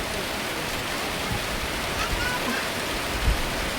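Heavy storm rain falling in Laos: a dense, steady, close hiss with no pauses, continuing at an even loudness throughout.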